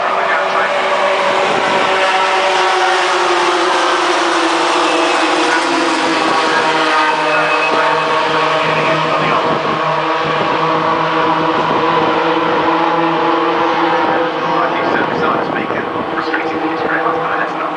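Pickup trucks race at Rockingham in May 2009, their engines a loud, continuous droning roar with layered pitches that rise and shift as the pack passes, with commentary underneath.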